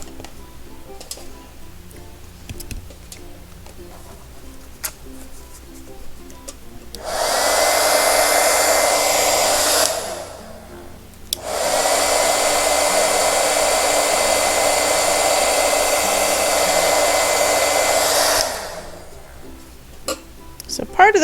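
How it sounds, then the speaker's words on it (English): A heat gun blows hot air onto Shrinky Dinks plastic planner charms in two loud, steady whooshing bursts, one about three seconds long and the next about seven seconds long, with a brief gap between them and quieter handling sounds before and after. "my heat gun was not hot enough"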